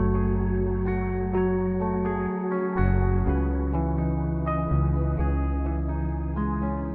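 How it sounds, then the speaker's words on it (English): Ambient guitar layered with a Scarbee sampled bass with a high cut in FL Studio: sustained low bass notes shifting under soft, shimmering guitar tones, smooth and continuous. "Together with the guitar, the bass sounds like this."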